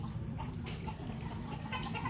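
Chickens clucking and fussing nearby over a steady farmyard background, with soft bird calls scattered throughout and no voices.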